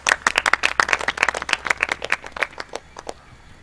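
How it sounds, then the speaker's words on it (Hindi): Studio audience of a game show clapping for a contestant in quick, distinct rhythmic claps, close and crisp at first, then tapering to a few scattered hand claps. "ताली होनी चाहिए इनके लिए"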